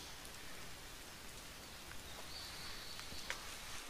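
Steady rain patters on surfaces at a mountain shrine in bad weather, a faint, even hiss of drops with a few brighter splashes and no one talking.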